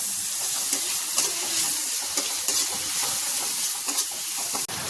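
Constant sizzling of ground masala paste sautéing in a hot pan for chicken curry, with soft scraping and stirring strokes scattered through, fairly close and without talk.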